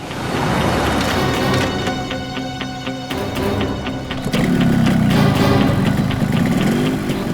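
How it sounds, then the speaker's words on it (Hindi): A motorcycle engine starts and runs, idling loudly and steadily up close with a mid-pitched mechanical rumble and a brief change in tone partway through, with no voices. "बाइक स्टार्ट हो गई, जल्दी आओ।"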